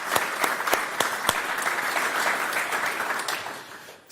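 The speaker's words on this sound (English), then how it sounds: "I want you to give an applause for organizer for organizing such a great conference" A conference audience applauds the organizers of a software developer event, with full, sustained clapping and a few louder individual claps before it thins out at the end.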